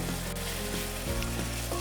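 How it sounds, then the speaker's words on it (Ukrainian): Minced meat frying in a pan, stirred with a wooden spatula, gives a steady close sizzle throughout with low pan rumble and a few soft scraping knocks. "6-8 хвилин смажемо фарш."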